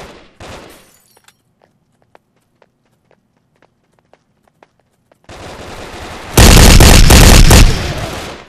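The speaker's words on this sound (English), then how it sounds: "I was shooting you, Luclin." Gunfire in the blocky shooter video game Brick Force: faint footstep-like ticks, then a loud, close burst of sustained automatic fire that swells sharply and fades near the end.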